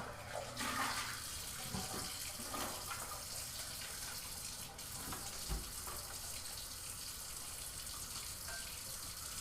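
Running tap water pours steadily while a pot is washed under it, a continuous faint rush with occasional knocks and clatters from the pot, and nobody speaks.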